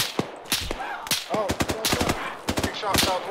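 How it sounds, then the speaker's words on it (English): Rapid bursts of gunfire ring out in a jungle firefight in the Arma military video game, close and loud, some shots in quick automatic strings and others single, with voices talking in between. "Who's shooting us in here?"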